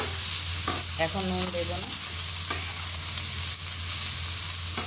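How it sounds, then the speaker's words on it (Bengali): Chopped vegetables are lightly fried and stirred in a pan for a vegetarian roll filling, with a loud, continuous close sizzle and occasional scraping strokes. A voice speaks briefly over it. "এখন দেব যে সবজিগুলো কেটে রেখেছি সবগুলো একসাথে। এটাকে হালকা ভেজে নেব।"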